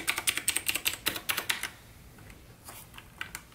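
Razer BlackWidow Chroma V2 mechanical keyboard with green switches: a quick run of loud, crisp clicky keystrokes close up, then a pause and a few scattered key presses.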